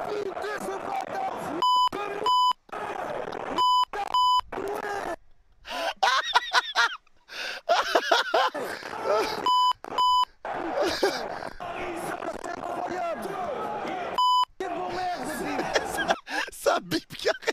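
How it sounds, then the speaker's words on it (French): Repeated loud electronic beeps, steady single tones in short bursts, cutting in over excited talking and laughter. "Ça bip dans tous les sens"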